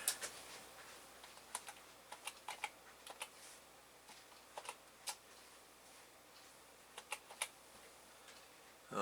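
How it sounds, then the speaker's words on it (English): Soft, quick keystrokes tap on a computer keyboard in short uneven bursts with pauses between, close and quiet in a still room. "I'm going to type that over here."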